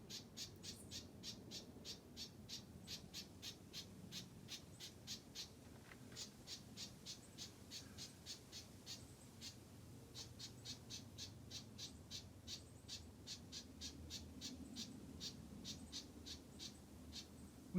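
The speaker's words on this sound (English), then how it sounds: "I am being fussed at by a bird." A bird fussing at a hiker on a day hike at Gecko's Overlook, giving long series of rapid, evenly spaced sharp call notes, faint and somewhat distant over a steady outdoor hiss.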